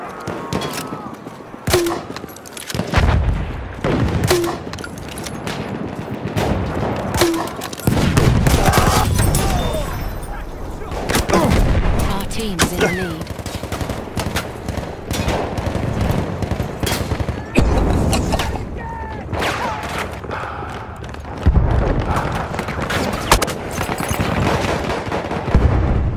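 Dense Battlefield 1 deathmatch gunfire: rapid automatic bursts and single heavy shots crackle almost nonstop, loud and close, with a voice faintly heard now and then.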